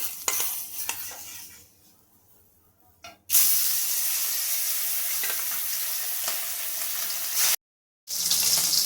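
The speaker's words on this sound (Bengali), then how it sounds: "এবার আমি মাছগুলোকে ভেজে নেব।" Fish fry in hot white oil in a wok, starting with quiet stirring, then erupting into a loud, dense, steady sizzle that holds, breaks off briefly, and resumes near the end.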